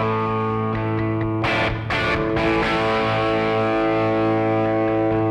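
A full music mix plays back through an analog tape machine, dense and continuous with sustained tones, bright percussive bursts and a slightly saturated, warm texture throughout, with no talking.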